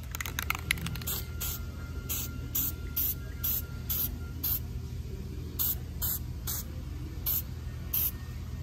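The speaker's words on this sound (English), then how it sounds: "It's a copper based gasket, and just dust both sides of your gasket and let it dry" A copper-based spray gasket coating is sprayed onto a valve cover gasket in a series of short, loud hissing bursts at a steady pace, close to the listener, with no talking.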